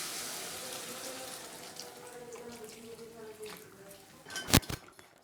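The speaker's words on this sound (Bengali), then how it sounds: "এবার আমি পরিমাণ মতো জল দিয়ে দিচ্ছি" Water pours steadily into a pot of rui fish curry with potato and pumpkin, a continuous soft splashing rush that ends with a brief clatter against the pot.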